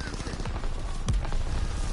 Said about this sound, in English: Oh, that guy got shot.